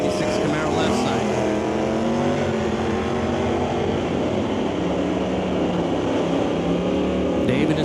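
Drag racing at an NHRA Northwest National Open Series meet, a 1964 Chevrolet wagon against a 1996 Camaro Superstock, loud sustained engine roar with shifting pitch under an announcer's commentary.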